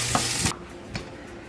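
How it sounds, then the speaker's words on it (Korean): Food stir-fries in olive oil for keto gimbap, with a brief burst of sizzling that stops abruptly and is followed by a couple of soft spatula scrapes, close and moderately loud. "그래서 이렇게 그냥 올리브유에 가볍게 볶아주고 잘 볶아줍니다"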